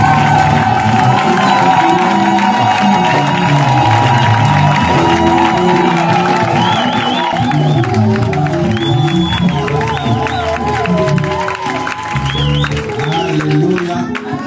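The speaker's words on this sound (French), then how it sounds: "show your neighbor how to applaud." A church congregation applauding, whooping and shouting during a service, a loud, sustained mass of clapping and cheering voices filling the room.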